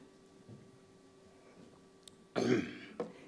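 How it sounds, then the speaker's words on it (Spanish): A single gruff throat clearing rises loudly out of quiet room tone, followed by a brief softer rasp. "este tipo de carraspera con el que luchamos"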